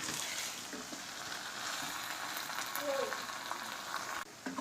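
Spinach and mutton sizzle quietly in a pan as garam masala is stirred in, a soft continuous frying hiss with occasional scraping and no talk.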